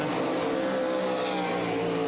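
IMCA Race Saver sprint cars run hot laps at Southern Iowa Speedway, a dense, continuous loud engine roar and whine filling the clip without pause.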